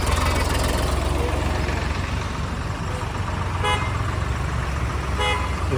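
Trucks and cars queued at a petrol pump during a truck drivers' protest, a dense steady rumble of idling engines with a couple of short horn toots, busy and close.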